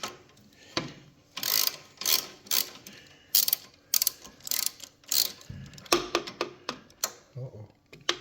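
Ratchet wrench clicking in short repeated bursts while driving large 9/16 bolts straight into the frame of a 1940 Harley-Davidson UH, close and fairly loud, with brief pauses and faint talk between strokes.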